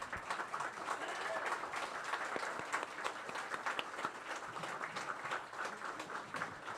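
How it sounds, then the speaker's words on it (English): Sustained applause for the candidates at an elections forum, dense, even clapping from a sizeable audience filling the room, steady and moderately distant. "applause for our candidates."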